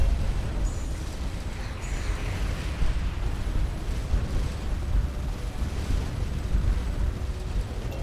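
Missiles blow up in the space game Starcom Nexus as a run of deep rumbling blasts and bursts, low and continuous, with a faint thin tone drifting above.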